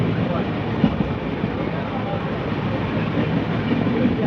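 Inside an LHB sleeper coach (S4) of the 12353 Howrah-Lalkuan weekly superfast express on the move, a steady, loud rumble fills the cabin, with faint clicks of wheels over rail joints running through it.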